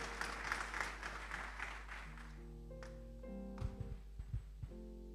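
A church congregation claps loudly at first, then the applause fades out as sustained musical tones begin and a few sharp thumps follow.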